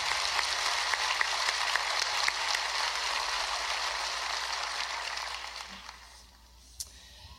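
A graduation audience at a medical school ceremony applauds in a dense, sustained roar of many hands that fades away toward the end, leaving a quiet room.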